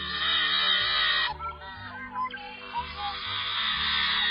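Harsh, grating call of a yellow-headed blackbird, loud and close, with buzzy strained notes over about four seconds and a break partway through.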